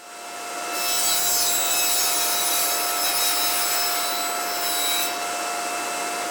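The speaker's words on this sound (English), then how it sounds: "I'm roughing out panels for the French cleat and then also cutting the taper for the French cleat" Saw cutting a tapered wood panel for a French cleat in a workshop, a steady loud whirring cut lasting several seconds with a dust collector running, no voices.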